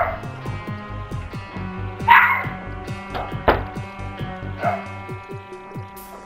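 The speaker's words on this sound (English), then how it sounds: "this dog don't stop barking!" A dog barks repeatedly in quick yapping bursts, fairly close, with a faint whimpering quality and some background noise.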